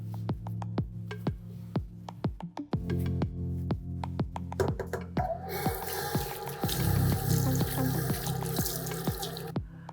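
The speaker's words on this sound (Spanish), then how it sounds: "Una vez que enjuagamos nuestro paño" A cleaning cloth rinsed in water, with a run of separate drips and trickles at first, then a fuller stretch of splashing, running water near a sink until the end.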